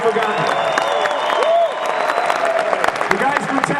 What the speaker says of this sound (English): How about a round of applause for Mask, man?